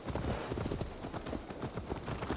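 Horse hooves clip-clop steadily in the video game Assassin's Creed Valhalla, a continuous rhythmic trot near and fairly loud, with no talking over it.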